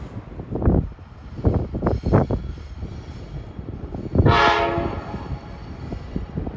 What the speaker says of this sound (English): These 3900 series trains on New Jersey Transit are probably among the fastest commuter trains in the country